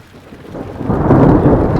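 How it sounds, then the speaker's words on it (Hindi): Mountain hailstorm with large hailstones, thunder and lightning: a rumbling roar swells from quiet to loud over a second and then holds as a dense, close, sustained clatter and rush, with no voices. "अब लगे जी मोटे मोटे ओले, ये देखो कितने मोटे मोटे ओले आ रहे। ओ बिजली चमक रही है"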